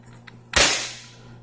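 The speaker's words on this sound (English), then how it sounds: "You have to prime the blaster by pulling the handle down. You push the handle back into place." A Nerf Rival Knockout XX-100 blaster is primed with a couple of faint mechanical clicks, then fires with one sharp, loud pop that trails off, heard up close with no talking.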